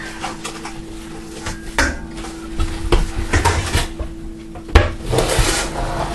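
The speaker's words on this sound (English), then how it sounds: "I'm going to go ahead and get a larger bowl" A larger stainless steel bowl pulled out and handled in a home kitchen, close knocks, clanks and rubbing scrapes of metal against cupboard and counter, irregular and moderately loud, with a sharp clunk near the end.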